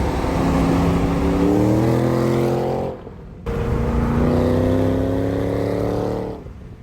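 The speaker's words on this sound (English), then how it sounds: "I always thought the stock exhaust sounded really, really good." A 2014 SVT Shelby GT500 with stock exhaust revs up twice in a row, each rise a deep, throaty exhaust drone climbing in pitch before dropping off, close and loud.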